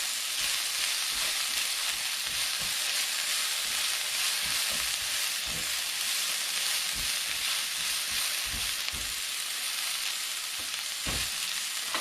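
Diced carrots and green beans fry in vegetable oil for fried rice, a steady close sizzle with scattered crackles and pops and occasional stirring scrapes throughout.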